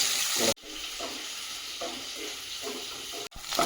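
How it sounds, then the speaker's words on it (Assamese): Onions fry on a gas flame turned low, giving a soft, steady sizzle with faint stirring scrapes, briefly cut off by abrupt breaks near the start and end. "পিঁয়াজখিনি গোল্ডেন ব্ৰাউন কৰি আছোঁ।"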